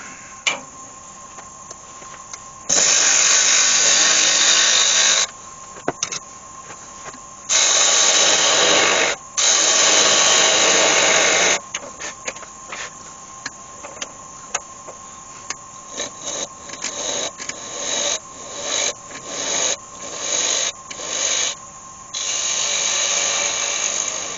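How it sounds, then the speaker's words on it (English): An apple wood bowl base being sanded on a lathe at close range, with loud bursts of broadband hiss that start and stop repeatedly over a steady motor hum, the later passes shorter and choppier. "just sand that up. Just get a really nice finish on there."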